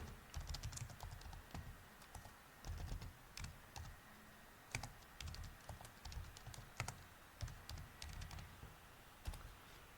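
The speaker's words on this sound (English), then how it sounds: "let's type in" Keys clatter on a computer keyboard while text is typed into a Telnet terminal session, in quick irregular bursts of close, soft clicks with short pauses between them and no speech.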